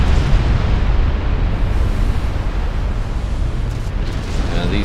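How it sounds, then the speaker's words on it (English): Super battleships trading shell explosions in the naval video game Ultimate Admiral Dreadnoughts: a continuous loud, dense roar of blasts and rumbling booms that never lets up. "these two super battleships are just pounding each other to dust"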